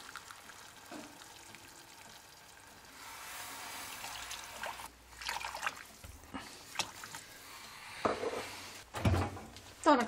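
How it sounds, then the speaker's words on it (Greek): Boiling water is poured into a pot of noodle soup made with hilopites, a soft hissing trickle with splashes and clatters from the kitchen, followed by louder bumps near the end. "Και στη συνέχεια θα ρίξουμε νεράκι βραστό."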